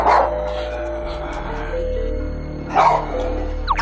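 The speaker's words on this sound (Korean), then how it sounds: "화면 속 개들의 움직임이 클 때는 거의 관성적으로 몽이의 짖음이 계속 되지만" A dog barking at dogs moving on a TV screen indoors, two loud barks a couple of seconds apart over a steady low hum.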